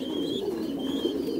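Village pigeons coo softly and continuously close by, a low repeated throaty murmur with faint chirps above, no talk.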